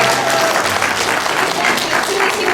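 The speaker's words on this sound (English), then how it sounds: "if we can get a round of applause for Aang's dancing" Steady applause from an audience at a stage play, dense clapping filling the room without a break, loud and close.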